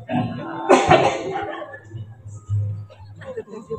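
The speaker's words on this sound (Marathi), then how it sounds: "काय बाहेरचा खोकला लागलाय" A short burst of coughing rises near the start of an outdoor village comedy performance, followed by quieter murmuring and low background sound.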